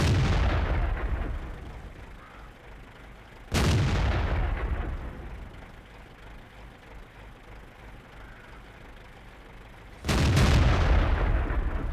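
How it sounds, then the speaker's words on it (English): Tank guns fire in World of Tanks, three loud booming shots spaced several seconds apart, each a sharp blast that fades into a long low rumble with faint engine noise between. "So you can pretty much fire 2 or 3 rounds before I reload."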